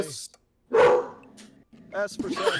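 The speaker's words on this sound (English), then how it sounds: "That was my dog." A pet dog barks in a sudden loud burst of yips close by, followed by a person talking.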